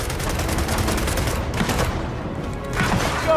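Sustained gunfire in a Gears of War: E-Day campaign battle, a loud continuous fusillade of automatic weapons with rumbling booms and no talk.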